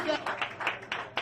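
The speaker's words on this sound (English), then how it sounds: "Clap your hands for" Audience clapping at a comedy roast comes in a few irregular, uneven bursts over a little more than a second, mixed with voices from the crowd.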